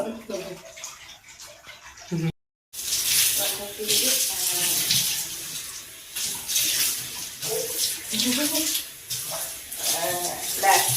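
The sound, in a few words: baby being bathed with running water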